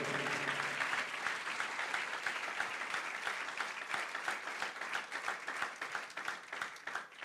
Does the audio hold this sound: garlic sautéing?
no